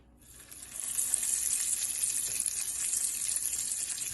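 Potato pieces frying in a pan of reheated cooking oil, a steady bright crackling sizzle that swells in within the first second and then holds loud and close.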